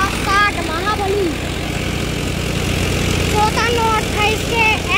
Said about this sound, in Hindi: ये देखो सोनाली का क्या शानदार आवाज है ट्रैक्टर की